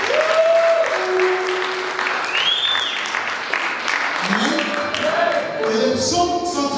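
A church congregation applauding the Lord at a French-language prayer and worship gathering, with loud sustained clapping from many hands, close and continuous, and singing and voices over it.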